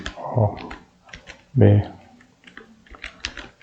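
A computer keyboard is typed on during a lesson, with scattered quick key clicks and a couple of louder thumps, close by and heard in short bursts.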